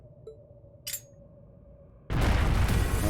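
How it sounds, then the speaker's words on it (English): A flash bomb goes off in the video game Trails of Cold Steel: after a quiet hum and a short whoosh, a sudden loud, dense burst of noise erupts and holds to the end, with no one speaking. "That was a flash bomb."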